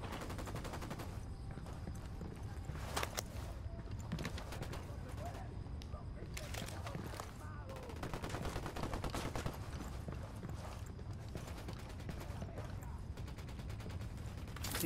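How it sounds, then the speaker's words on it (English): Gunfire in Ghost Recon Wildlands, repeated sharp cracks and rattling automatic bursts in clusters, some close and loud, others farther off, mixed with chirping birds and ambient noise, with voices talking throughout. "Opening fire on these fuckers."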